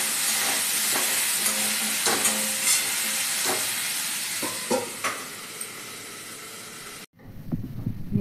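Drumstick (moringa) pods fry and get stirred in a pan for a mustard-style vegetable dish, giving a steady loud sizzle broken by scraping stir strokes that stops abruptly near the end, with no talk.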